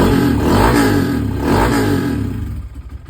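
A car engine runs steadily and revs after an ignition coil repair, a loud, close mechanical drone that swells and eases before dropping off at the end.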